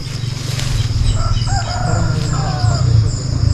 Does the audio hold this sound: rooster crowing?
yes